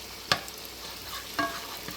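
Butter sizzles in a pan while cooking a creamy Dijon mustard wine chicken, a steady crackling fry close by, broken by a few sharp spatters and stirring clicks.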